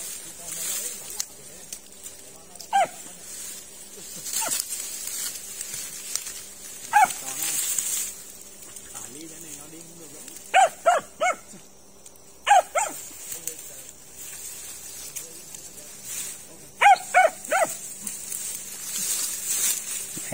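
A snake-hunting dog in grass gives short, sharp barks in scattered bursts, some single and some in quick clusters, over a quiet outdoor background with people talking intermittently.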